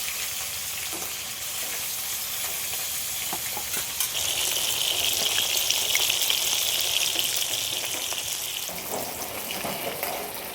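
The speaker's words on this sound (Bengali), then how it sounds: "তেল গরম হয়ে গেছে এবার মাছ ভেজে নেব" Pieces of rui (rohu) fish fry in hot oil with a steady, dense sizzle that crackles and spits throughout and swells louder midway, close up with no voices.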